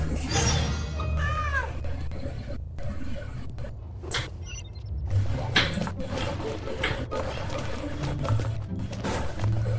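A cat meows repeatedly in the video game Genshin Impact, short mewing calls rising and falling over a busy, loud game soundscape with clicks and mechanical clatter running throughout.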